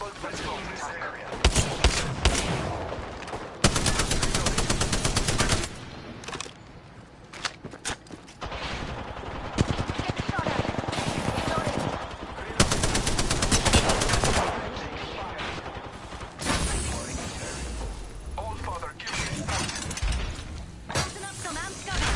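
Rapid video-game gunfire and rocket blasts crackle in dense bursts, near and loud, with short pauses between volleys and sharp impacts throughout.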